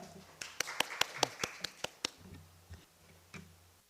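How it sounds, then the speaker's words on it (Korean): Sparse handclaps from a small audience at a Gyeonggi Provincial Council online forum, about ten sharp, evenly spaced claps over two seconds, then a few scattered ones fading into quiet room tone. "박수로 환영해 주시기 바랍니다"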